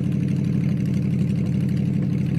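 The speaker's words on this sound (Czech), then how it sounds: "Že ten zvuk toho motoru bude moc nahlas" A vehicle engine with a torn-off, broken exhaust idles steadily, a loud, rough, low droning rumble that holds constant for the whole stretch with no voices over it.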